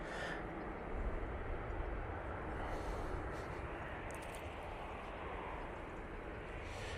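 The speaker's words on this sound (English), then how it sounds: "Easyjet going off to Zurich now" An Easyjet airliner departing for Zurich makes a faint, distant, steady jet roar that swells slightly and holds as a broad wash with no talking.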